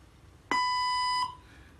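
A robotic language translator gives a single clean electronic beep lasting under a second, a steady pure tone against a quiet background.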